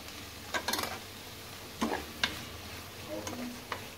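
Mushrooms, carrots and chopped garlic fry softly in a pan, a low sizzle broken by a few distinct scraping strokes of a spoon stirring, close and fairly quiet with no talk.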